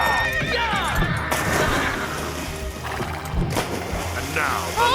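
Horses whinny and neigh loudly amid a chaotic scene of splashing and crashing, with shouting voices over the commotion as the animals are driven into water.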